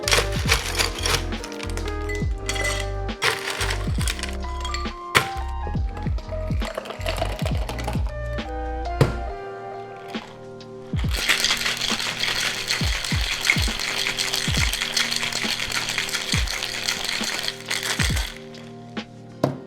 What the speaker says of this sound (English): we're also going to give it a normal shake with some ice for about 8 to 10 seconds